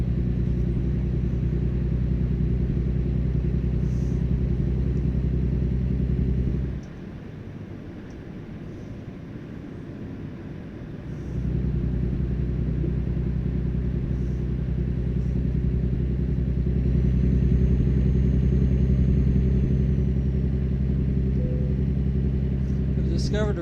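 Low-power truck engine in American Truck Simulator, a deep steady droning rumble while driving that drops away briefly to a lighter hum before returning, continuous and loud throughout.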